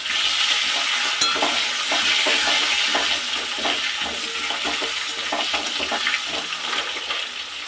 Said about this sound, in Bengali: মাছ ভাজা তেলের মধ্যে আমি আলুগুলো ছেড়ে দেবো। এখন আলুগুলো একটু ভেজে নেবো